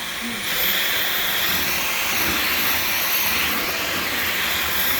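A Dyson V15 Detect cordless vacuum cleaner runs steadily close by, giving a loud, even motor whine with a broad airy hiss that holds for the whole stretch without pause.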